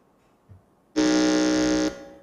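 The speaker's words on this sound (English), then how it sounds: "let's hear the sound from the buzzer" A single loud electronic quiz contest buzzer blares steadily for about one second, a harsh tonal drone that cuts off abruptly, with near silence before it.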